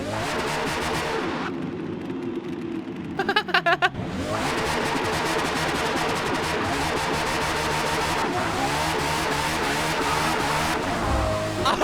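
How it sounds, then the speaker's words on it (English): A Ferrari 599XX Evo race car in Forza Motorsport revs hard and loud, dropping briefly to a lull before surging again into a sustained high-pitched wail. "I don't care if this car isn't the fastest car because it's the best sounding car"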